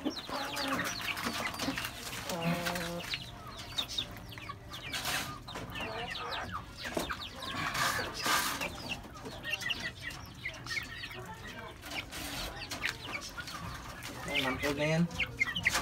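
One-month-old chicks cheep and cluck on and off at fairly close range, with soft, scattered calls over a constant background murmur.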